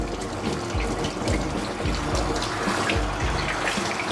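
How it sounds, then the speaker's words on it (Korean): A steady spray of water from a shower head flows over a Bichon Frise being bathed, aimed from behind, with a constant close splashing hiss and recurring low gurgling pulses, no voices. "뒤에서 샤워기가 가고 뒤에서 물줄기가 가면 귀에 물이 들어가는 일은 거의 없어요."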